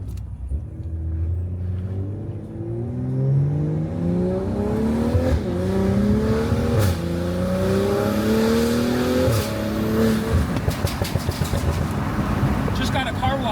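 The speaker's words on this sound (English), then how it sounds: "How insane this exhaust sounds." A BMW M340i with a fully catless exhaust and an aftermarket AliExpress valvetronic valve revs hard, its loud engine note sweeping up and down in repeated climbs before breaking into sharp crackles at the end.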